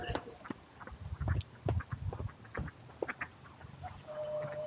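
Ducks quack in short, scattered calls at a riverside spot by high water, fairly close, with some outdoor background noise.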